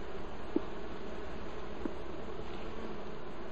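Bees buzz around a split terracotta hive, a faint steady hum with a couple of brief near passes, alone without voices.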